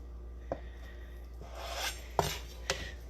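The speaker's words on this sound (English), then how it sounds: "we're going to take this egg and we're going to very carefully cut it in half" A knife cuts a hard-boiled egg in half, giving a few faint scraping strokes and sharp taps against a board, close and quiet with gaps between them, with no talk.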